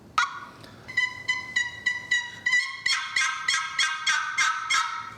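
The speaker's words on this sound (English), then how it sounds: "it's a good box call" A vintage wooden turkey box call is played in a rhythmic run of about a dozen raspy, fairly loud yelps, with the later strokes rising higher and sharper, with no voices.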